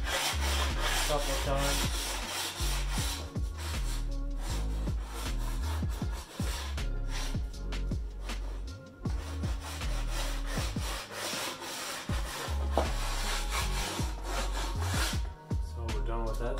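A snowboard edge is sharpened with repeated hand passes up and down the board, producing rhythmic rasping strokes that come close and fairly quiet, with a voice talking between them.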